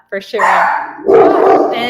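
Household dogs bark loudly and yip in quick bursts nearby, overlapping with a person talking during an online book club chat.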